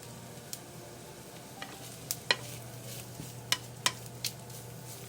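Bitter gourd stir-fried in a pan, a steady low sizzle broken by scattered sharp clicks and scrapes of the utensil against the pan, with no voices.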